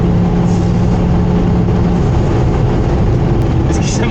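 Volvo V70R engine at speed on the road, a steady loud broadband drone with low rumble filling the whole stretch, continuous and close inside the car.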